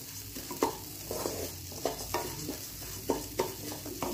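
Rice fries in homemade ghee while a spoon stirs and scrapes it around the pan, giving a soft continuous sizzle with regular scraping pulses, close up and moderately quiet, and no one speaks.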